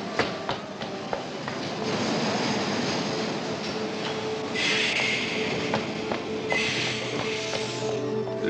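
A Paris metro train runs through the underground, carriage rumble steady with rhythmic clacks and sharper squeals or hissing bursts recurring over about eight seconds, no voices.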